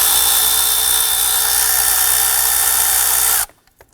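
Power driver with a 7mm socket whirs loudly and continuously for over three seconds while loosening a hose clamp by the throttle body of a 2015-2020 Ford F-150 2.7L V6, then stops abruptly.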